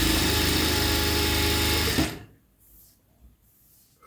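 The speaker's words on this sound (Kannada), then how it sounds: "ಆ ರೀತಿ ಮಡಿಸ್ಬಿಟ್ಟು ಸ್ಟಿಚ್ ಹಾಕೊಳ್ಳಿ." A sewing machine stitching a sleeve hem folded back about a quarter inch runs in a fast, even whir for about two seconds, then stops abruptly, leaving near silence.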